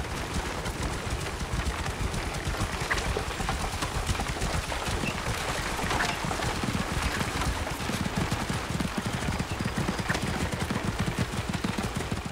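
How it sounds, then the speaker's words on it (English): A horse-drawn chariot rolls through Giza in Assassin's Creed Origins, with a steady, dense clatter of hooves and wheels that carries on unbroken at close range. "Chariot riding down in Giza."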